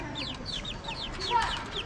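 Chickens on a rooftop give a quick series of high, repeated clucks and chirps, fairly faint over a soft background murmur.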